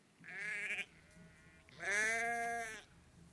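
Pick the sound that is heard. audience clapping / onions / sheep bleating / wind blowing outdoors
sheep bleating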